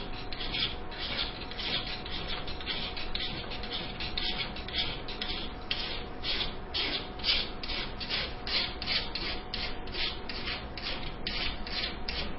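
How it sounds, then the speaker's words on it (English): Steady rasping of a thin, fine metal file worked in a rhythmic back-and-forth, close and continuous, each outward stroke giving a bright scraping burst with no talking. "File only files on the outward stroke, doesn't file on the backward stroke."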